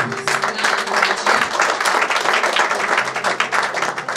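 A church congregation cheers and applauds to acclaim the Lord, a loud, dense and continuous wash of clapping and voices that fills the whole stretch at close range.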